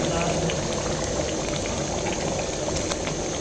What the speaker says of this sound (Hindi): इसके अंदर खटकी आने लगी, इसे हम खटकी कहते हैं, जो बबल बन रहे हैं मोटे मोटे